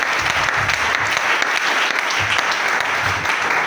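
A church congregation applauding, dense sustained clapping from many hands filling the room loudly and evenly throughout, with no break.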